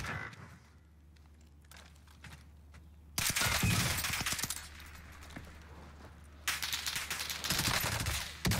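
Gunfire in Call of Duty Warzone on Rebirth Island: a quiet stretch with scattered shots, then two loud bursts of rapid automatic fire, close and dense, each lasting a few seconds.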